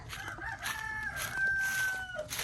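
A rooster crows once in a long, drawn-out call, fairly close and clear, with faint background noise around it.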